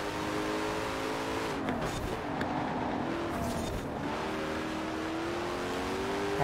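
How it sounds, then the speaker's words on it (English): Racing-game car engines in Forza Horizon 4, in a race involving an Ultima Evolution Coupe 1020, drone at moderate level, with a rising, whining rev tone and another car's engine faintly audible behind, continuous and without talk. "I can hear another car back behind my"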